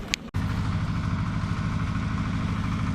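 Tractor engine running steadily with a low, even diesel-like throb, close and moderately loud, after a brief click and short gap at the very start.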